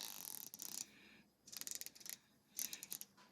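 An 80-tooth hand ratchet is worked in three short bursts of fast, fine clicking, close up and fairly quiet, with brief pauses between strokes.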